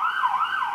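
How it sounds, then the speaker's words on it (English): Ambulance siren passing on a street, a loud, steady wailing tone rising and falling in smooth sweeps, with no other sound around it. "there are accidents happening like ambulances passing"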